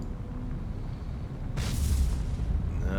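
An explosion in the naval combat game War on the Sea sets off a sudden broad blast halfway through, swelling into a heavy rumbling roar over steady engine-like background noise.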